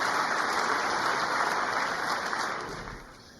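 Applause in the US Congress during a presidential address, a broad sustained wash of clapping from a large chamber that gradually fades out.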